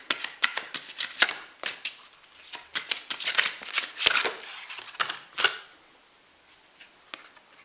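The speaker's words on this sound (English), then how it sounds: "I'm going to pull some spiritual guidance cards" Spiritual guidance cards shuffled by hand in a quick run of crisp riffling bursts and snaps, fairly close and loud, fading to near silence at the end.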